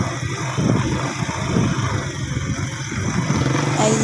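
Motorcycle engine running steadily at night on a dark road, a loud close drone with slight rises in revs and no talk.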